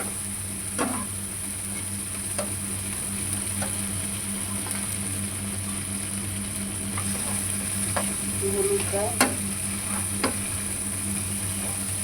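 Chilli, tomato and a ground cumin, ginger and coriander paste fry in a pan, a steady low sizzle with a few sharp scrapes and taps of a spoon scattered through, no talking.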